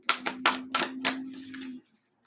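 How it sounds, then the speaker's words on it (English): Oracle and tarot cards are shuffled in about six quick, close riffling bursts over a low steady hum, then stop abruptly into near silence. "Let's shuffle these here."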